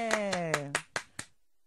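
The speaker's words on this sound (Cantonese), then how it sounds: "嚟俾啲掌聲大家吓" A short burst of clapping from a school group, five or six sharp claps spaced evenly under a sung or spoken voice, ending abruptly.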